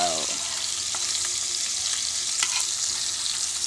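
Pork meat omelette sizzling steadily in a hot pan, with a brief scrape and soft thumps as the meat is flipped partway through; close, continuous frying hiss throughout.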